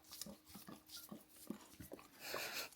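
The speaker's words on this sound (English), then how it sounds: "That's a happy dog." A dog makes soft, repeated whimpering sounds in short bursts indoors, close by, with some breathy panting noise in between and no talk over it.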